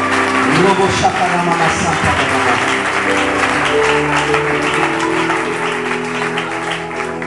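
A church congregation applauds and acclaims at an evening worship gathering, sustained clapping mixed with voices and crowd noise that eases slightly toward the end.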